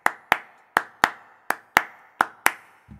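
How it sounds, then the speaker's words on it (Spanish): Sharp, dry hand claps for a chacarera rhythm, eight crisp claps at an uneven folk pulse, close and isolated, with a faint low thump at the very end. "Las palmas que se tocan en la chacarera,"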